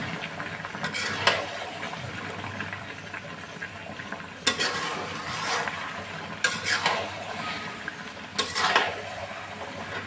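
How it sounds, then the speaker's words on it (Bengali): Melted sugar syrup for a sweet-and-sour mango pickle is stirred continuously in a pan. A steady low sizzle runs throughout, broken by several loud scraping, clattering strokes of the spoon against the pan. "এটা অনবরত নাড়তে হবে, নাড়িয়ে নিচে লেগে যাবে"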